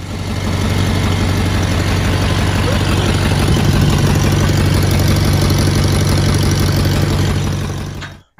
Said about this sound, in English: Turn the engine over for a few seconds and then squirt a little more oil.